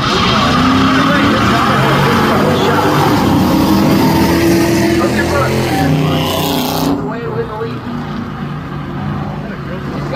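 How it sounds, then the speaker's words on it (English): Stock cars in a spectator race at a speedway, including a white Dodge Charger, roar past loudly with engines droning and rising, while an announcer talks over them before the noise drops away. "Jeremy in the white Dodge Charger on the outside"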